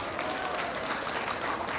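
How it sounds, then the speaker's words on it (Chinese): A crowd gathered at a community festival in Xincheng Township, Hualien, claps for children who did well at a sports meet, a soft, continuous patter of hands heard from a distance for under two seconds. "所以我们用掌声来向他们表示祝福"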